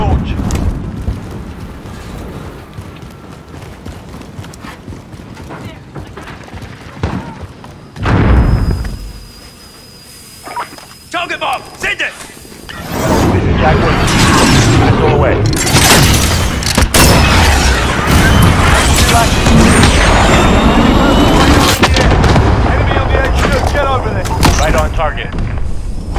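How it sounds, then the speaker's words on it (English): Cruise missile strike in Call of Duty: Modern Warfare multiplayer: a loud, sustained roar of blasts and rumbling explosions fills the second half after quieter gunfire and a brief lull, with battle noise throughout. "Cruise missile, go for launch."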